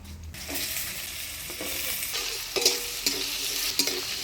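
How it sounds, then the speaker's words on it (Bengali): Potatoes frying in hot oil tempered with black cumin and dried red chilli, stirred in a pan for a village-style dish; a steady close sizzle with soft scraping stirs recurring every half second or so, no talking. "ফোড়নে তেলে আলুটা নাড়াচাড়া করে নিলাম।"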